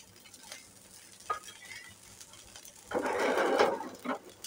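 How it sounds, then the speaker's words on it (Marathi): Oil hitting a rice-flour dosa on a hot griddle, a short burst of loud hissing sizzle after a few faint clicks and taps, close by, with no voices. "आता यावरती मी घालून घेणार आहे तेल."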